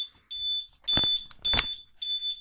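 Legrand fire alarm panel (ECS 206) sounding in alarm, a shrill electronic tone pulsing in repeated bursts with short gaps, fairly close and alone.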